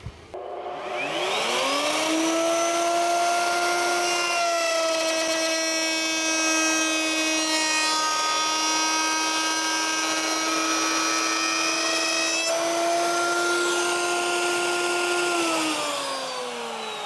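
Power tool spins up to a high steady whine as wood is cut on a coping sled, holding a tonal drone with a rough cutting edge for over ten seconds before winding down.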